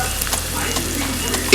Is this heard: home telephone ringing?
no